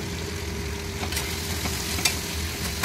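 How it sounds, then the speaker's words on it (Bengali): Pointed gourd with cumin, garam masala, tomato and salt stir-fried in a pan, a steady crackling sizzle over a low background hum, with a few light clicks of a spatula. "আমি পটলগুলো দিয়ে ভালো করে কষাচ্ছি।"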